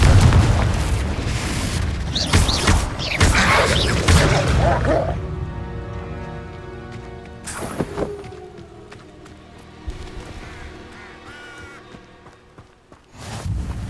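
A Confringo fire spell bursts in Hogwarts Legacy with a loud booming blast and crackling debris, followed by quieter game ambience with musical tones and a few softer hits.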